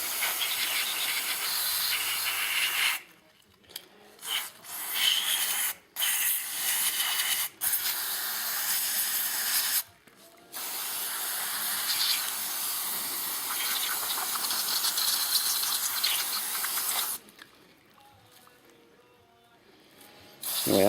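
Solvent cleaner sprays from aerosol cans onto a chainsaw set over a cookie pan during a deep clean, a loud close hiss held for long stretches and broken by short pauses, with no talk.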